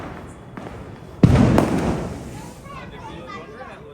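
A single loud firecracker bursts nearby during Diwali, a sharp bang with a crackling tail that fades over a couple of seconds, amid background chatter and voices.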